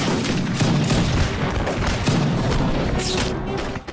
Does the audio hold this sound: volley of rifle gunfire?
yes